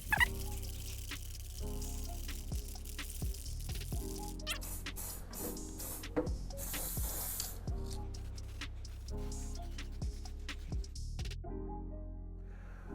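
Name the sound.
spray painting an RC car shell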